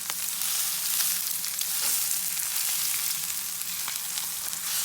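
T-bone steak searing in a very hot pan while being basted with butter, a steady close hiss and crackle of sizzling fat with faint spoon clinks.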